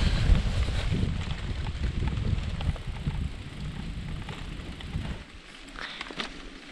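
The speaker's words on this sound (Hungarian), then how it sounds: "belendült itt a szél ismét" Strong gusty wind buffets the microphone during a bike ride, with a low, rumbling roar that eases slightly near the end.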